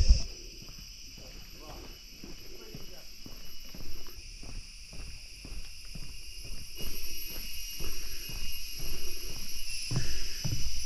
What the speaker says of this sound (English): They have cicadas and crickets.